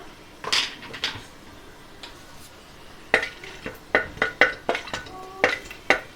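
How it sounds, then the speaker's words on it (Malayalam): Star anise, cardamom, a piece of cinnamon and cloves hit hot oil in a pressure cooker, giving a string of sharp clinks and clatters from spoon and pot over a faint sizzle, close and uneven in rhythm. "ഇനി ഇതിലേക്ക് നമുക്ക് 2 സ്റ്റാർ, 2 ഏലക്ക, ഒരു ചെറിയ കഷ്ണം പട്ട, ഒരു 5 ഗ്രാമ്പു ഇത്രയും ചേർത്ത് കൊടുക്കാം"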